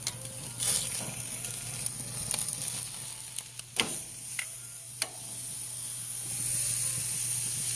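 A T-bone steak sears on a grill at the Durango Hotel, giving a steady close sizzle with scattered ticks and pops. A constant low hum runs beneath it, and no one speaks.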